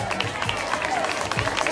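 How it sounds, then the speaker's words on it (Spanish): A live audience at a stage show gives a strong round of applause, with dense clapping and crowd noise at a steady, moderately loud level. "denle un fuerte aplauso"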